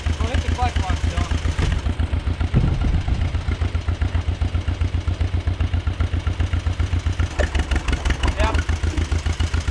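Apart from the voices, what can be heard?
farm machine engine running after clutch engaged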